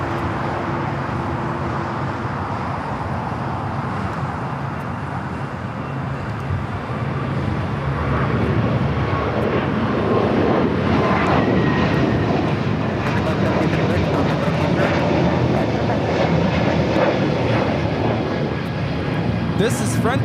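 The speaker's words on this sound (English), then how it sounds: "This is Frontier 1756 taking off to Houston Intercontinental on the A321neo" Frontier Airlines Airbus A321neo jet taking off from runway 25 Right at LAX, bound for Houston; a broad, steady engine roar builds and swells over about twenty seconds, with faint radio talk underneath.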